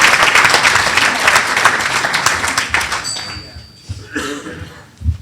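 An audience at a leadership awards ceremony breaks into dense, loud applause that fills the room for about three seconds, then quickly dies away into scattered claps and soft shuffling.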